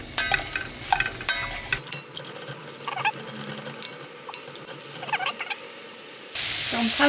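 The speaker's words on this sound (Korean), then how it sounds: "볶아주세요 들기름에 무를" Radish pieces stir-fry in perilla oil in a pan for a perilla-seed radish soup, giving a steady close sizzle with scattered scraping and clinking of a utensil stirring throughout, no talk.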